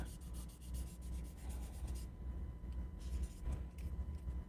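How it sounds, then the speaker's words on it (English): Steady dry rubbing and scraping, like sandpaper worked back and forth over a surface, continuous and fairly close, with a low rumble underneath. "I'm doing a dry sanding on it"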